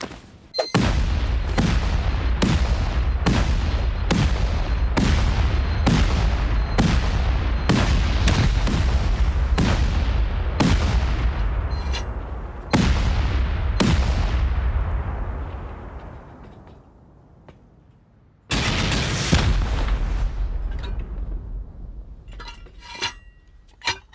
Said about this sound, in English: then we'll start sending rockets after that